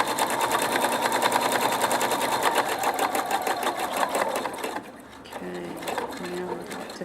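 A Pfaff Quilt Expression 4.2 sewing machine stitches steadily over bumps in thick fabric with a fast, even mechanical clatter, then stops, and a few faint clicks and a light whirr follow as the foot lifts.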